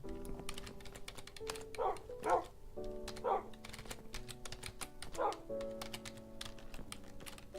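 A dog barks a few times in Minecraft, short sharp yips scattered over a bed of game music and rapid keyboard clicking.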